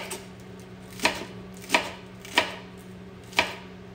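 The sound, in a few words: chopping lettuce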